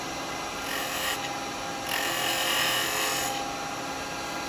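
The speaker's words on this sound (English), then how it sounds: "what I'm going to do is I'm going to just chamfer this in." A wooden toothpick holder spins on a lathe while a tool chamfers its bottom edge, giving a continuous rasping scrape that swells and eases over a few seconds with no talk.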